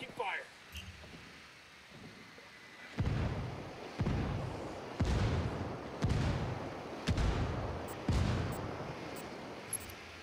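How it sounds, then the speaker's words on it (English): Mortar fire in the video game Ghost Recon Wildlands comes as a series of about six heavy booming blasts, roughly one per second, over a rumbling background with talk in between. "I'm mortaring him."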